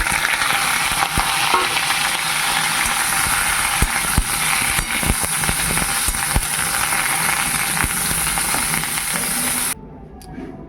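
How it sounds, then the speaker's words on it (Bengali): Cauliflower sizzles steadily and loudly in hot oil in a pan, with scattered clicks and scrapes of stirring, until the frying noise cuts off abruptly near the end. "এবার আমি ফুলকপিগুলো ভেজে নেব"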